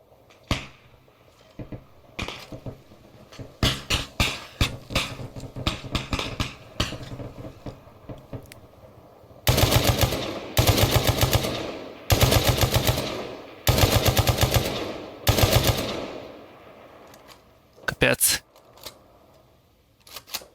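Arma Reforger gunfire in a firefight between hills: scattered shots, then several long bursts of rapid automatic fire, loud and crackling, with quieter single shots between.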